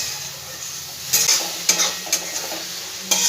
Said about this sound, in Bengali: 2 থেকে 3 মিনিট ভাজা ভাজা করে নেব।